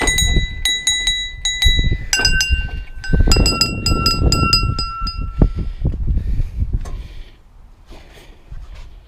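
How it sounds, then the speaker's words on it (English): Bright metallic bells ring out in a rapid string of strikes, some clinking and some sustained, with clattering and rummaging underneath before fading to quieter rustling. "We've got bells."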